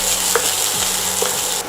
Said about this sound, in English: we're going to start stirring this and sauteing it so that all the oil